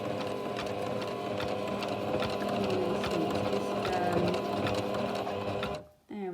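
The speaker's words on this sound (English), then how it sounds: "I'm going to use my machine on the buttonhole setting" A sewing machine set to buttonhole stitch runs steadily and loudly, attaching a small label to a cloth storage bag, with a rapid even whirr that cuts off abruptly near the end.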